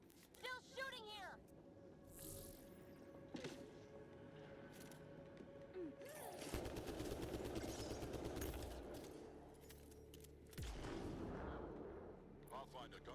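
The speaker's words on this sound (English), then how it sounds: "Still shooting here!" Gunfire in the sci-fi shooter game Mass Effect Andromeda, layered bursts of weapon fire and blasts over a rumbling combat soundtrack, with voices talking through the fight.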